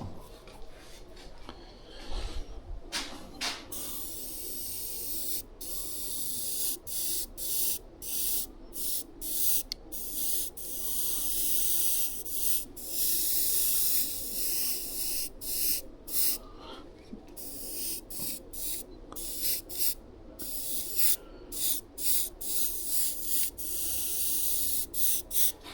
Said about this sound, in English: Working your airbrush back farther away will help you a lot.